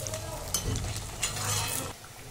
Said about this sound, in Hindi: अभी हम इसमें एक एक करके वड़े डालेंगे। अब हम इसे गोल्डन होने तक तलेंगे।